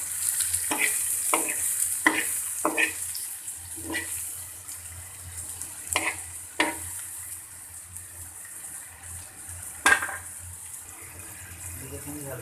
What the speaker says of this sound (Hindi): हल्के फ्लेम पे इसको फ्राई करेंगे शैगी इन कैप मशरूम को